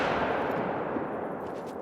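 Heavy report of a Coachmate Lever .45-70 rifle in theHunter: Call of the Wild, heard as a booming shot fading into a long, rolling outdoor echo that decays over nearly two seconds.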